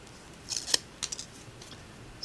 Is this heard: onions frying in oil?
no